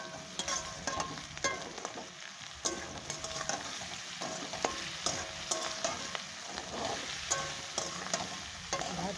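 Food fries in a pan with salt and turmeric while being stirred, a continuous close sizzle broken by frequent sharp spatula scrapes and taps against the pan, with no talking.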